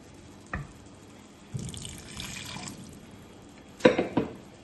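Water used to rinse a mixer jar is poured into the gravy for a chicken roast. A short gush and trickle is followed later by a couple of quick splashes and knocks, all fairly quiet.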